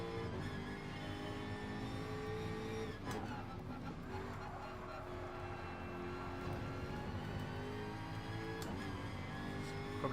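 A Bugatti racing on a track in GT Sport, its engine a steady sustained drone with shifting harmonic tones, loud and continuous throughout with no pause.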